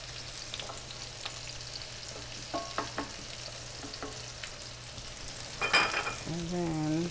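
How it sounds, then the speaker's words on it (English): Onions sizzle steadily in a hot pan with occasional stirring clinks and scrapes, close up, with a brief louder clatter toward the end and no talking. "I'm going to put the onions now. Let them saute a little"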